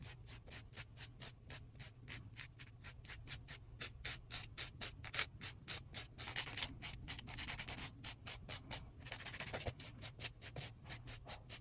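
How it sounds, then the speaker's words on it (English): Rapid, rhythmic scratchy rubbing of a 180 grit sanding band blending a false nail tip onto a natural nail, faint and close, repeating in quick strokes with short pauses. "Gently blend the false tip to the natural nail with a 180 grit sanding band."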